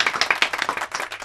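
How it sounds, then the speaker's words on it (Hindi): Brief burst of clapping and applause from an audience, a quick dense run of handclaps lasting about a second, fairly loud and close. "जोरदार तालियां।"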